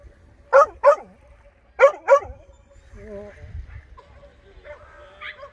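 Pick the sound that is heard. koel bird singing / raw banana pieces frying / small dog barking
small dog barking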